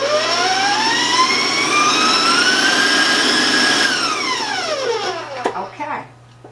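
An electric stand mixer with a paddle beats sugar-free chocolate applesauce brownie batter, its loud, steady motor whine rising slightly, then winding down and stopping near the end, with a few clunks as it halts.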